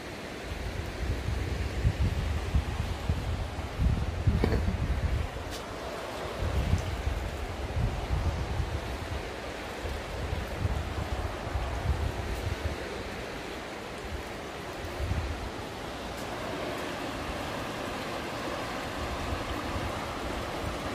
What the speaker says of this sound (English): look at the water running